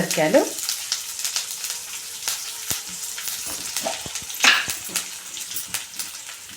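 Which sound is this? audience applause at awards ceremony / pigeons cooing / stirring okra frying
stirring okra frying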